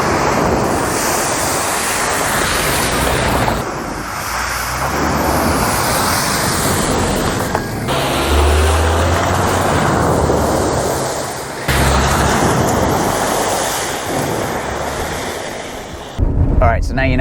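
A Subaru Outback XT Onyx Edition ploughs through large muddy puddles off-road, with a broad rushing wash of water and spray that keeps surging and breaking, heavy wind buffeting on the microphone throughout and a brief louder burst near the end.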